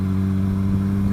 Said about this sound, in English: the bike is still happily cruising along